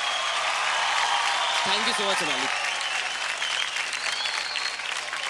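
A large crowd applauds continuously and loudly, with a broad wash of clapping throughout while a voice speaks briefly over it.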